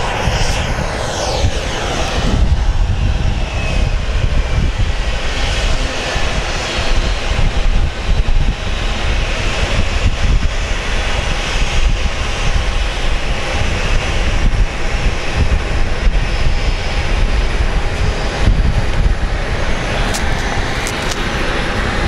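A Southwest airliner arriving at Phoenix Sky Harbor airport roars loudly and continuously, its broad engine rumble steady throughout, mixed with wind buffeting the microphone.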